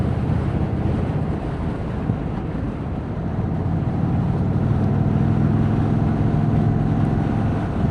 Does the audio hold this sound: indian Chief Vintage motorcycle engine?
yes